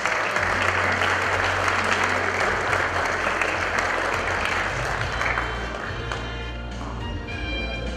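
Guests at a quinceañera celebration give strong applause as the shoe bearers are presented, a thick, loud wash of many clapping hands over steady low background music, easing slightly toward the end.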